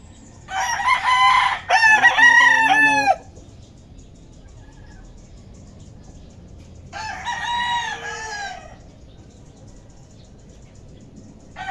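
Chickens and roosters in a backyard coop, with two loud bursts of crowing and clucking, one near the start and another partway through, separated by a quieter stretch of low farmyard background.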